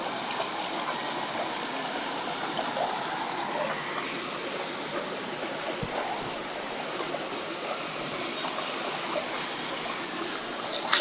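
Continuous splashing water flows steadily, like a fountain nearby, with no pauses and only faint background sounds.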